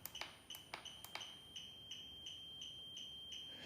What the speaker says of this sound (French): Ça bip là-bas.